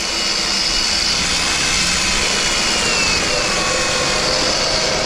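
A steady, loud mechanical whir of a milling machine running continuously with a 1/8-inch end mill, with a high-pitched tonal hum layered over broadband noise and no pauses.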